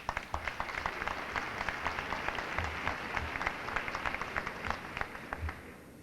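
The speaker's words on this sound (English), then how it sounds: "I think you should applaud yourself for doing such a thing." Graduation audience applause at the 1993 Winona State University commencement, sustained crisp clapping from a large crowd filling the hall, with a slight fade near the end.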